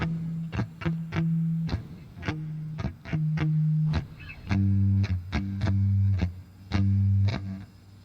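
A heavily distorted electric guitar chugs out a riff of palm-muted chords in straight eighth notes with sharp, rhythmic attacks, from the chorus of a song. It is loud and close, with no voices.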